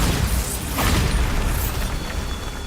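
A Bombarda blasting spell detonates in the Hogwarts Legacy video game, a single booming burst near the one-second mark rising out of a dense, rumbling background of game sound, with no talk.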